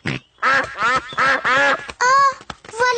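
Cartoon ducks quack in a quick run of loud, nasal calls close by, several bursts in a row with brief gaps, with no talking over them.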